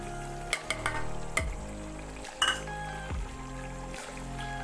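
Mutton being stirred with yogurt and lemon juice in a pot for Eid biryani: a low simmering sizzle runs throughout, punctuated by several sharp metallic clinks and scrapes of the utensil against the pot.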